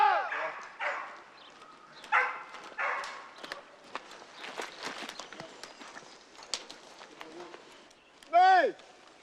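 Fauve de Bretagne hounds on a rabbit hunt give scattered barks and yips at a distance, mixed with rustling movement and brief shouts from hunters, ending in a louder, nearer howling cry.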